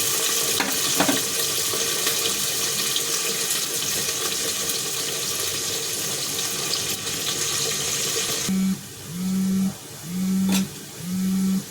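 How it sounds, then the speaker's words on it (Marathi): Onions and potatoes fry in a pan for soybean vegetable pulao, giving a steady, bright sizzling hiss. Near the end the sizzle drops, and a few rhythmic low scraping strokes from stirring take over. "आता आपली कांदा बटाटा चांगले फ्राय झाले"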